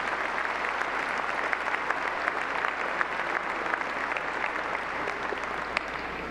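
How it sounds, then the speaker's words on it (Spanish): Congregation at a Catholic Mass applauding, an even, continuous patter of many hands clapping at a distance, fairly soft, with no talk over it. "un aplauso a todos los que nos acompañan"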